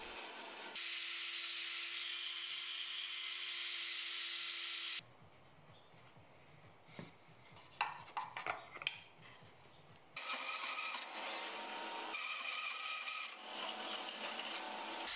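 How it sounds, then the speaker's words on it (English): A miter saw cuts a pear wood liner for a bandsaw box in two long, loud, steady passes, with quieter clatter and handling noise between them. "I made multiple cuts with the miter saw in order to sneak up onto the correct size"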